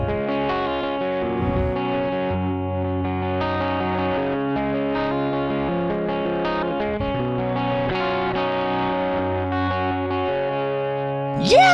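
Electric guitar played through a strong compressor on a Richie Kotzen Fly Rig pedal, a sustained run of even, held notes with a chorused, slightly distorted tone, steady and loud with no talking.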